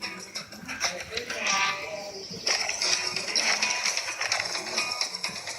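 Bighorn sheep bleat in the hunting video game Deer Hunter 2014, a few nasal wavering calls standing out over game ambience at moderate loudness, without talk over them.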